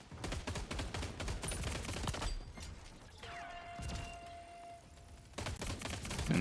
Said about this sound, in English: it's fully automatic. I don't know. But it sounds like a burst.